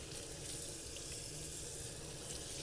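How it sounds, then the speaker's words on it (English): Cool tap water runs steadily into a kitchen sink while pork belly is rinsed under it, a continuous close splashing hiss with no voices. "just cool water to rinse off the surface"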